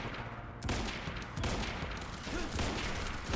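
Gunfire in the video game Quantum Break comes as dense, rapid bursts of shots, loud and continuous, with a couple of sharper onsets and no clear talk.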